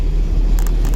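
Car engine revving up during a driving lesson, a steady low rumble that holds throughout with a few brief brighter hiss bursts near the end, close and fairly loud.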